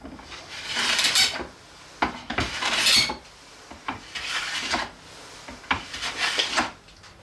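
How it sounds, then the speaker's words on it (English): A hand plane pushed across the end grain of a wooden cutting board in several firm, rasping strokes, each a breathy scrape with short pauses between, close and fairly loud with no talking. "we're done the hand planing and the surface is pretty much flattened"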